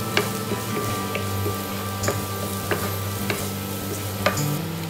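Onion, garlic and ginger fry in a pan, a continuous close sizzle over a low hum with regular sharp ticks and scrapes of a utensil stirring, no voices.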